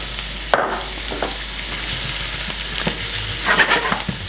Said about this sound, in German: nachdem das Schmalz jetzt heiß ist, gebe ich die Zwiebeln rein